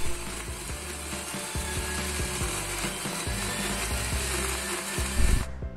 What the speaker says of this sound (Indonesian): Lalu kita blender hingga halus